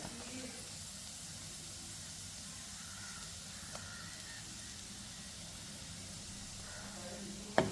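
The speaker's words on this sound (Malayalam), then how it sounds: "ഈ ബട്ടറുമായിട്ടൊന്ന് മെൽറ്റായിക്കോട്ടെ അതിലേക്ക് കുറച്ച് മൈദ" Butter melting in a pan for a pasta sauce gives a faint, steady sizzling hiss that runs unbroken throughout, with a single sharp clack near the end.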